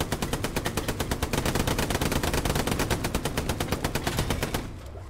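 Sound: gunfire in a video game

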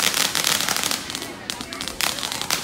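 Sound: Diwali firecrackers going off

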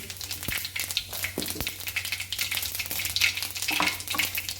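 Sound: cumin and mustard seeds sizzling in hot oil

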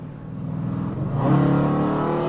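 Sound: Dodge Challenger car engine accelerating

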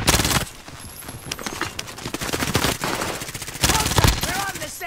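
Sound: gunfire in video game Call of Duty Fortune's Keep

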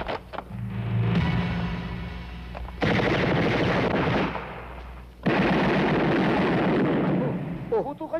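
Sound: gunfire in a movie

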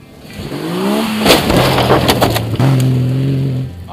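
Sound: car driving toward a ramp jump

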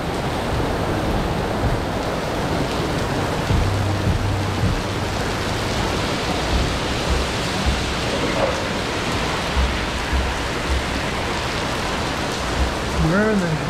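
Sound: rain falling

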